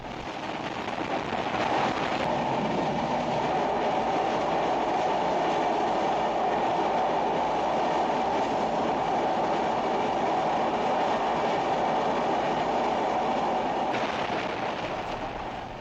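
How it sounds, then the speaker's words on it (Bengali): A passenger train runs fast across the Buriganga rail bridge on the Dhaka–Mawa line, heard from onboard as a loud, continuous rumbling roar with rattling carriage noise that holds steady from start to finish. "আমরা এখন বুড়িগঙ্গা রেল সেতুতে অনেক দ্রুত গতিতে আমাদের ট্রেন ছুটে চলছে"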